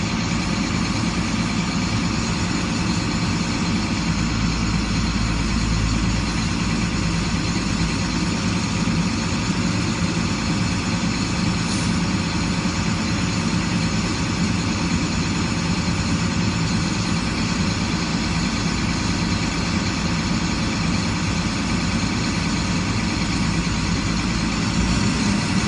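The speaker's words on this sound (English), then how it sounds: "I'm just going to put my foot on the gas here a little bit" A heavy engine of a 2006 International truck runs continuously and loudly nearby as the accelerator is pressed slightly, a steady low rumble with a slight rise in the middle and no distinct revving peaks.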